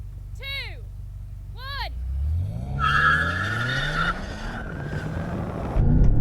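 BMW M5 launching hard from a standstill in rear-wheel drive, engine revving up through rising gear sweeps as the tires squeal, loud and close, with brief chirps before the run.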